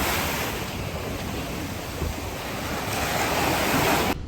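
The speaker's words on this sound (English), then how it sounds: "Holding a microphone in my hand because it's windy." Strong wind buffets a handheld microphone at a beach, a steady broadband roar with surf-like wash running continuously through the whole stretch, no voices, cutting off abruptly at the end.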